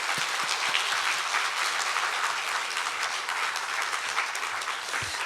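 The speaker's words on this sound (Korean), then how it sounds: "우리 나오실 때 박수로 환영합니다." A church congregation at an evening Bible festival service applauds to welcome the pastor, dense steady clapping from many hands filling the room throughout.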